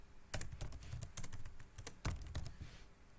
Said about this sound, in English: if I actually type my full name